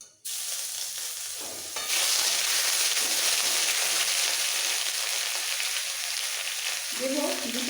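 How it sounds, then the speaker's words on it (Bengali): Grated ginger dropped into hot spice tempering for an okra and potato dish, a loud steady frying sizzle that swells after a moment and continues with a brief voice near the end. "ফোড়ন ভাজা সুন্দর গন্ধটা এসে গেলে এর মধ্যে দিয়ে দেবো এক চামচ গ্রেট করে রাখা আদা"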